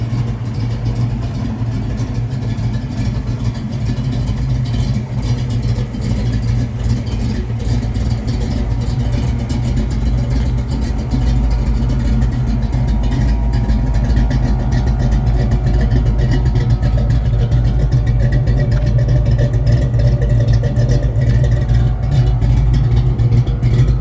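A 1979 pace car fitted with an aftermarket cam idles with a loud, deep, lumpy rumble close by, its steady low throb swelling slightly toward the end as the walk around continues, with no talking.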